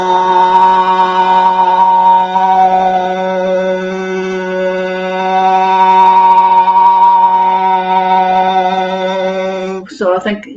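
A single voice chants a long, slow, steady Om, rich overtones shimmering above the low drone, ending with a brief breath or shift.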